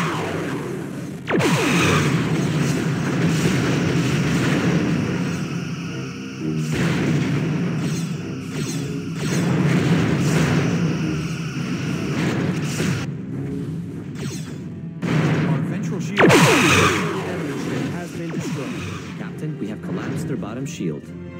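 Starship weapons fire and explosions in a Star Trek bridge simulator, with a Berlin-class ship fighting Klingon cruisers: long rumbling bursts of booming, whooshing fire in several waves, heavily mixed with voices talking.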